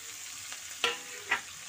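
Tomato, onion and pumpkin being stirred in a frying pan, with a faint steady sizzle and two soft scraping strokes of the spoon, no voices.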